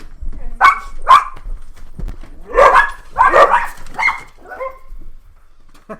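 Dogs bark loudly indoors in a series of sharp, close woofs and yips, in irregular bursts with brief pauses between them.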